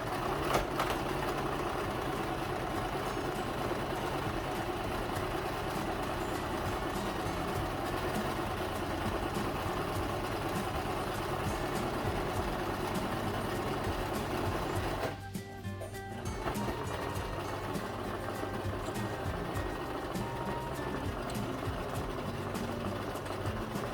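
A sewing machine forward stitching a t-shirt tote: a steady, close, rapid mechanical whir and clatter running almost continuously, with one brief pause midway before the stitching resumes.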